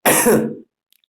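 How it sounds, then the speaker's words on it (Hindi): A single harsh throat clearing with a rough cough, loud and close, lasting about half a second before silence. "ज्यादा बोलने की वजह से खांसी बढ़ती ही जा रही है"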